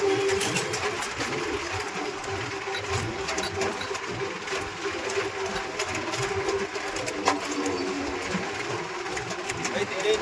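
A tractor engine drones steadily and close while driving on a cold day, a continuous mechanical hum with a rattling rhythmic texture, faint voices mixing in beneath the running motor.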